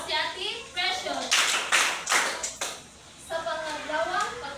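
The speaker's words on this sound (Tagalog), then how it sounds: "Bigyan natin ng tatlong palakpak si Ate Precious." A classroom of pupils claps for a classmate in a Filipino lesson, a short run of crisp group claps in the middle of the moment, with a teacher's voice speaking before and after.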